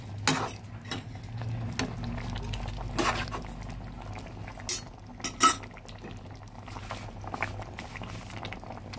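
Pabda fish curry with cauliflower and potato stirred in a pot, bubbling steadily with a low simmer hum while a utensil scrapes and clinks against the metal in a few sharp knocks.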